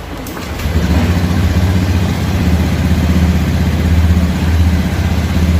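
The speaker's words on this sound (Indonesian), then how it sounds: "Sekarang mesin akan dihidupkan." Fuel-injected Honda Beat motorcycle engine starts with a quick crank, then settles into a steady, loud idle with an even low rumble that carries on to the end.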